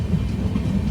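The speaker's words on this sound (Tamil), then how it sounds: "ஒரு வழியாக நம்ம ட்ரெயின் வந்தாச்சு." A train rumbles steadily and close by as it arrives at a station, a dense low roar with no voices.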